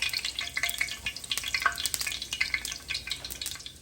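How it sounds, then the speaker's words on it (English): Whole snapper fish fry in hot oil with garlic and thyme, giving a close, crackling sizzle with rapid popping spatters throughout and no talk. "So I'm probably gonna fry these fish 2 at a time."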